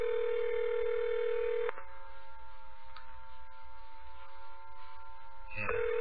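Telephone dial tone while calling a cell phone, a steady loud tone that cuts off, leaving a faint line hum with a few soft ticks, then the tone briefly returns near the end.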